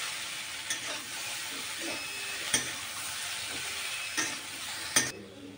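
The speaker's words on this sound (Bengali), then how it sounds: "যাতে আমার মশলাটাও ভাজা হয়ে যায়। কিছুক্ষণ কষাবো।" Chickpeas, paneer and garam masala are stirred and fried in a pan, a constant close sizzle broken by several sharp scraping spoon knocks spaced irregularly, no voices.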